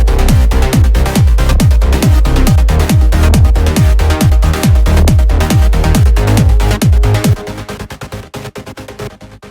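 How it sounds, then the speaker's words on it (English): A trance track's bass group and kick drum play soloed in Ableton Live: a loud, evenly pulsing kick with booming bass thumps repeats rapidly, then drops to a thinner, quieter pattern near the end. "We can go to the bass group and solo the bass group and the kick"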